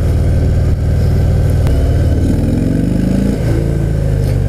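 A Harley-Davidson FXDR 114 motorcycle engine rumbles close by with a deep, lumpy idle, then revs up and climbs in pitch before settling back.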